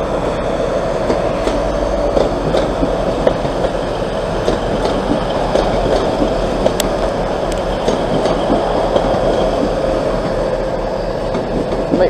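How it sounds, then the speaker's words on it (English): Class 185 diesel train 185142 at Hull station gives a loud, continuous rumble with a steady diesel hum and repeated rail clicks. It is heard close and alone, with no voices. "Eight five one four two to Manchester Piccadilly"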